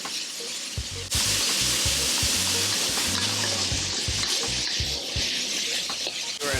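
Pad thai noodles with shrimp stir-fry in a hot pan, giving a loud, continuous sizzle that jumps up suddenly and carries on under repeated rhythmic scraping and tossing.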